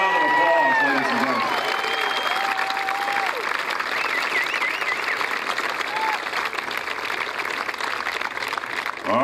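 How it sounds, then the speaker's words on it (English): A crowd applauds and cheers for veterans and armed forces members at the opening ceremony of the Red River Dragon Boat event, dense sustained clapping with whistles throughout, loud and continuous. "Let's give them a round of applause, ladies and"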